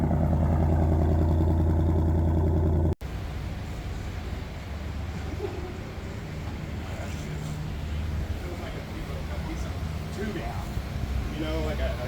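A Ford Mustang Dark Horse engine runs steadily and close by, with a strong low rumble that drops in level after a few seconds and then carries on as a rougher, busier drone.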